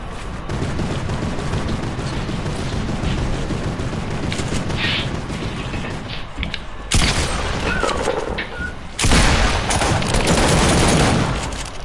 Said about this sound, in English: Oh, people are shooting me.